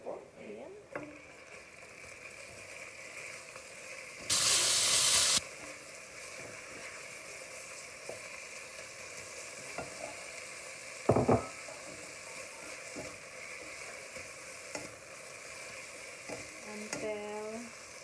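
Pork mince with onion and garlic frying in a pan for picadillo, a soft continuous sizzle with intermittent stirring and scraping, one brief loud burst of hiss and a few clinks.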